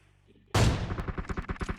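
Rapid burst of automatic gunfire in a first-person shooter game, a loud opening blast followed by a steady rattling string of shots, close and sharp.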